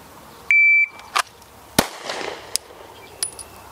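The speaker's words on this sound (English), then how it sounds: "We're gonna do hands at side, draw and shoot." Pistol shots on a qualification range after a shot-timer beep: a sharp draw-and-fire sequence of several loud cracks spread over a few seconds, with a second electronic beep later.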